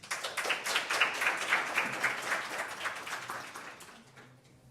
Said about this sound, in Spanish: Por favor, le damos un cálido aplauso.